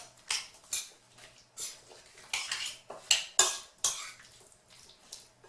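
Spoon stirring ingredients in a bowl for a mulberry dish, repeated clinks and scrapes against the bowl in an uneven rhythm, close and fairly quiet, no talk.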